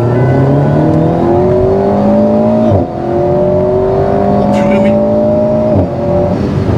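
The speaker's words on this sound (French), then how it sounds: "c'est le sifflement du turbo au passage à l'accélération" An Alpine A110 sports car roars and accelerates through rising gear shifts, a high turbo whistle riding over the engine, with a brief exclamation heard under it.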